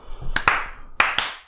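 Hands clap in two quick pairs, four crisp, close claps in a small room during a casual podcast, with nothing else around them.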